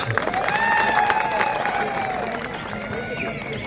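A crowd at a kabaddi tournament bursts into applause, a brief wash of clapping heard close, with a voice talking over it.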